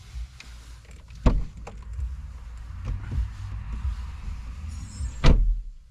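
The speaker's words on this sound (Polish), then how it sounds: "Zamknij i otwórz drzwi kierowcy." A car's driver-side door closing and then reopening while a second key is programmed, two sharp thuds a few seconds apart over faint cabin hum.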